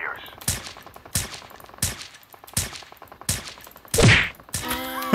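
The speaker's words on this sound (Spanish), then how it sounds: "siempre puedo seguir el sonido de los disparos" Sharp bursts of gunfire in Call of Duty Mobile crack out at regular intervals, about one each half-second, with a louder burst and a metallic ring near the end.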